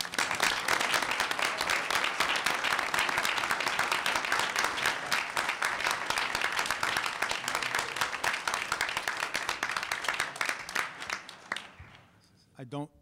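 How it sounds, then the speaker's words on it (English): A board meeting audience applauds steadily for about eleven seconds, a dense wash of many hands clapping that fades out near the end, with voices mixed in underneath. "I don't recall the last time someone clapped for me"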